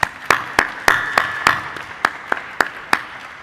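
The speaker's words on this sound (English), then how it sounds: "Can we please give them a round of applause and thank you." An auditorium audience gives scattered applause after a school mental health panel discussion, about ten sparse, separate claps at a loose rhythm, fairly close and moderately loud, with no voices.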